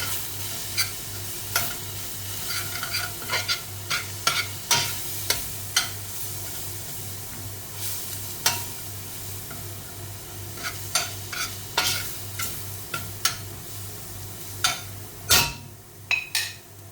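Hammour fish pieces stirred with spices and salt in a pan, a spoon scraping and clinking in irregular bursts over a low steady hum, close and moderately loud, with no talking.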